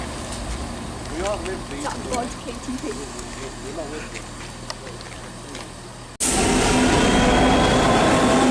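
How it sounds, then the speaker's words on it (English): A Class 66 diesel locomotive running as a light engine passes through Tamworth station on the West Coast Main Line, a loud sustained roar rising suddenly after a stretch of quieter station ambience with birds and distant voices. "passing through now, we've got a light engine class 66, 66125"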